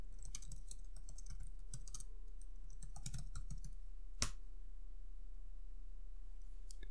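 Keystrokes tapped out on a computer keyboard while entering a command in a terminal window, quick irregular clicks in short bursts with a louder single strike near the end, close and fairly quiet.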